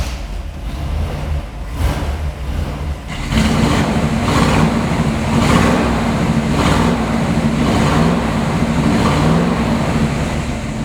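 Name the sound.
1946 Ford Cabriolet engine starting and running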